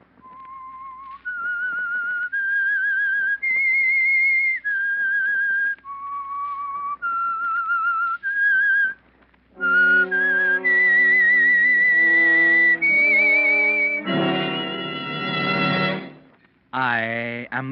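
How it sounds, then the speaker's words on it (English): Whistled signature theme for The Whistler radio drama, a lone human whistle carrying a slow, eerie melody of held notes stepping up and down, clear and close, ending in brighter ornamented phrases. "That whistle is your signal for the Signal Oil Program"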